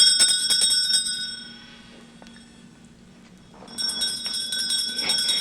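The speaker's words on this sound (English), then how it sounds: "All I got to do is ring the bell" A bright bell rings repeatedly to summon servants, a shimmering metallic tone that fades to near silence and then rings again, loud and close in a stage drama.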